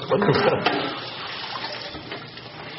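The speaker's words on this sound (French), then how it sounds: "La maîtresse fait la vaisselle" Running tap water splashes into a sink while dishes clink faintly, close by with a brief clatter near the start.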